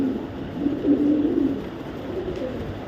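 Racing pigeons coo softly, close by, in low throaty rolling calls that repeat continuously over a faint background murmur.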